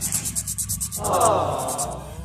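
Close, steady rasping strokes of sandpaper rubbing a part of a Honda XRM 125 motorcycle, repeated quickly in a brisk rhythm.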